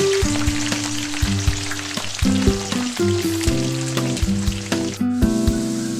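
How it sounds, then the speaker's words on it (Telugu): Pieces of ivy gourd (tindora) fry in hot oil, giving a loud, steady sizzle with crackling throughout, over a sustained tonal background. "సో చూడండి ఎంత బాగా ఫ్రై అవుతున్నాయో దొండకాయలు"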